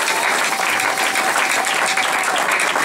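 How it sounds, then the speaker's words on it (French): A church congregation applauds loudly, dense sustained clapping from a large crowd, continuous and close throughout. "Est-ce qu'on peut acclamer très fort pour la gloire de Dieu?"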